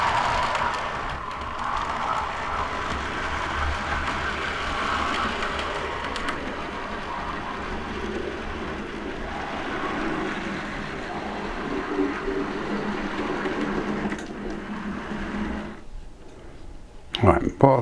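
A model train locomotive hauls coaches up a newly installed incline, giving a steady, close mechanical running hum that holds throughout, with a brief stutter near the end.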